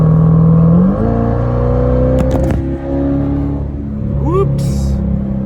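A Chevrolet C8 Corvette V8 fitted with a Fabspeed Valvetronic exhaust drones loudly up close from inside the car, shifting pitch through gear changes and revs, with a person speaking over the engine.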